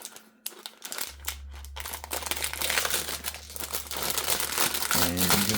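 Plastic wrapping crinkles and tears as it is pulled off a Turtle Beach Vulcan II TKL Pro mechanical RGB gaming keyboard, close-up rustling that builds in density over several seconds, with a low hum running beneath.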